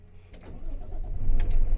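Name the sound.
truck engine starting with ignition key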